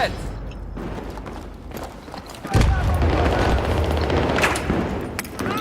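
An explosion in the video game Battlefield 3 multiplayer, a sudden loud boom midway followed by rumbling gunfire and battle noise, with a player talking over the gameplay.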